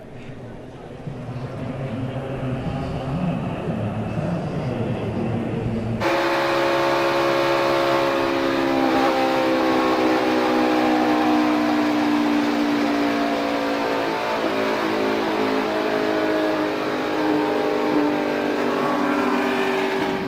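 NASCAR Cup stock cars racing and crashing at a superspeedway, a loud pack of engines roaring steadily, a dull impact followed by sustained high engine drone passing close, with a commentator talking over it.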